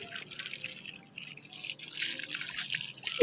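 Water runs steadily from a hose pipe during outdoor washing, with a soft continuous splash and gurgle at moderate distance and a louder spurt at the end.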